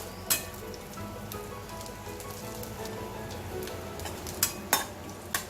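Cumin, curry leaves and chillies sizzling in a pan for tempering while being stirred, a soft steady frying hiss under scattered metallic scrapes and clinks of the spoon against the pan.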